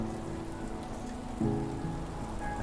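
Rain and wind pour steadily outside an open door, a dense hiss of drops striking surfaces with a slight surge partway through, continuous and moderately close.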